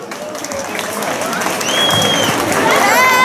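Crowd applause builds over a few seconds, mixed with chatter and shouts from a lively gathering at a cheese festival in Zoniana, Crete.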